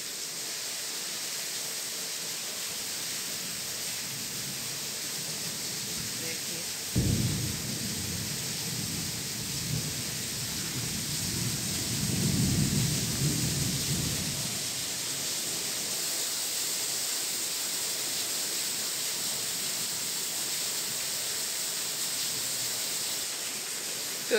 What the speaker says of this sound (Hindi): उतनी ही ख़तरनाक बारिश हो रही है।